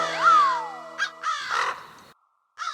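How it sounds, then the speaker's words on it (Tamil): A cartoon crow caws loudly in a Motu Patlu animated episode, giving a long harsh squawk followed by a few shorter caws and a final brief call after a silent gap. "முதல்ல இந்த காக்கா கிட்ட என்ன காப்பாத்து"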